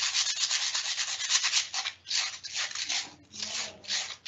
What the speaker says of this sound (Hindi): ये बिल्कुल चिकना हो जाएगा रेगमाल लगते ही ना।